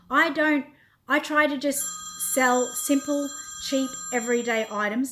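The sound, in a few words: phone ringing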